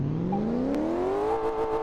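A Lamborghini Miura engine revs up in Car Mechanic Simulator 2018, its whining tone climbing steadily in pitch over nearly two seconds and then leveling off, loud and alone with a faint click midway.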